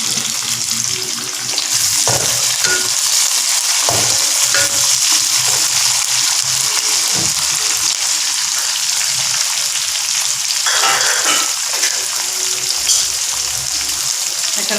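Tomatoes stir-fried with squid sizzle loudly and steadily in the pan, with faint scraping as they are stirred and a few brief knocks. There is no talking.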